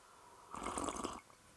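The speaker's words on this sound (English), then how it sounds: "Just a second while I slurp on this." A short, soft slurp of a drink, brief and close, in an otherwise quiet room.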